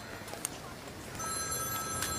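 A telephone rings indoors, a steady electronic ringing tone that begins partway through and continues to the end over a noisy room background.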